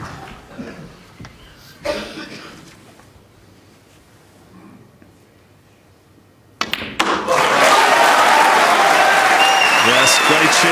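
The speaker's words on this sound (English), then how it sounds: "great cheer from the Crucible crowd" The Crucible snooker crowd breaks into loud, sustained applause and cheering for a century break, erupting suddenly after a quiet stretch with faint murmurs, a cough and soft knocks, then staying full and dense to the end.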